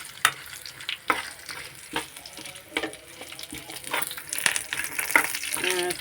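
Curry leaves fry in hot oil, crackling and sizzling up close while a spoon stirs and scrapes against the pan in irregular knocks.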